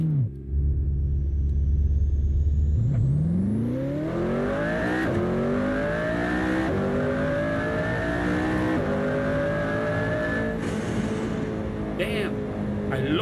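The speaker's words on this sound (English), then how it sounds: "Damn, I love the blow-off valve on the turbo." Hypercar in Assetto Corsa racing game, engine pulling hard through a long rising rev sweep after an initial low idle burble, loud and close, with turbo hiss on top.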